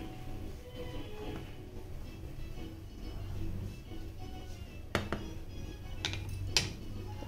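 Sevai cooking in a pot with cardamom and saffron being stirred in: a low background murmur, then a few sharp spoon clinks against the metal pot near the end, close and distinct.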